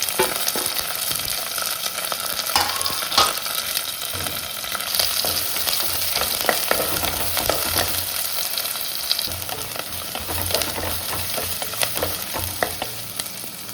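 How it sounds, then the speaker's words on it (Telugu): Green chilies, curry leaves and onion fry in a pan with a steady, close, dense sizzle and crackle, broken by occasional scraping stirs, with no talking throughout. "ఒక 3 పచ్చిమిరపకాయలు, కొంచెం కరివేపాకు, ఒక ఉల్లిగడ్డ, ఇదంతా వేయించుకోవాలి."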